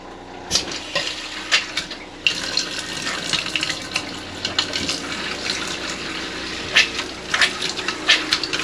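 Water spits and splutters from a newly plumbed cold water pipe while a pump runs, giving an uneven run of close splashing bursts and gurgles over a steady background rush, with no talk.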